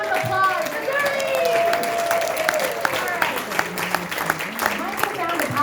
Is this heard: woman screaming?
no